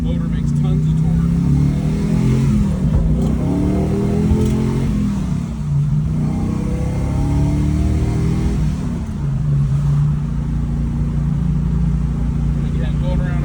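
Car engine under hard acceleration on a road, a loud, continuous drone that climbs in pitch through gear changes while someone talks over it.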